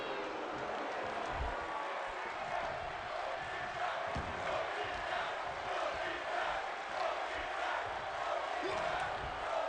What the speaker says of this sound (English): This capacity crowd now chanting.